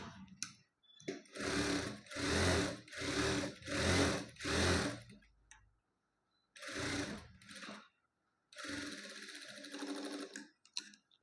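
A sewing machine stitches a puff sleeve in loud, rhythmic bursts: five quick even runs, a pause, then one more run and a longer final run, all close by.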